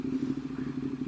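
A Ducati 848 Evo motorcycle engine running, a low steady throbbing rumble with slight pulsing, close and moderately quiet, heard alone for about a second.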